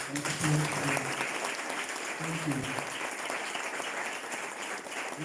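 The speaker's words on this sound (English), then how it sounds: "I want you to give yourself a round of applause" An audience at a 2022 mentorship end-of-year function gives a steady, full round of applause lasting the whole stretch, with a voice speaking briefly over the clapping.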